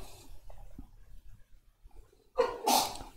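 A single sharp sneeze bursts out near the end after a quiet stretch of faint room noise, close and loud, from a person streaming at a desk.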